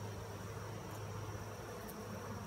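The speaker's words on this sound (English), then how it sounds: "here's what we're looking at in the bottom box. Again, just tons of bees." Honey bees buzzing inside the bottom box of a hive during an inspection, a faint, steady, even drone with no voices over it.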